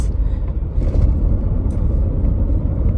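Low steady engine and road rumble heard from inside a moving car, continuous and close, with faint brief higher whooshes passing by and no talk.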